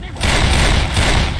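Dense, loud gunfire in the zombie shooter Left 4 Dead 2, a continuous barrage of shots filling the whole moment with heavy low thumps, with a voice faintly mixed underneath.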